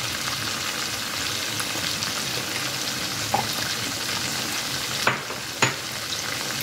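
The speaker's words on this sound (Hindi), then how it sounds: "यहाँ हमने इसे 10 मिनट्स के लिए फ्राई किया है जी ऑयल में" Chicken frying in oil for Peshawari karahi, a dense continuous sizzle up close with a couple of sharp spatula knocks against the pan near the end, no voices.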